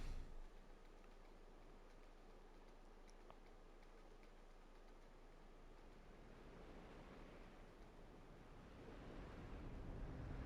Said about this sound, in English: Is that the beach I hear?